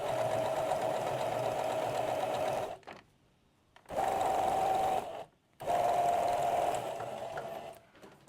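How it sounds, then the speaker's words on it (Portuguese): A close sewing machine stitches a narrow handkerchief hem on a blouse in three steady bursts, each a couple of seconds long, separated by brief pauses. "Costuramos, então, a primeira parte da nossa bainha de lenço"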